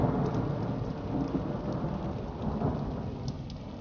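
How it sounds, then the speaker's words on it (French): Heavy rain pours steadily on a boat in Venice, heard from under shelter aboard, with a low rumble of thunder rolling underneath throughout. "Un gros orage et de fortes pluies nous font apprécier d'être à l'abri dans le bateau."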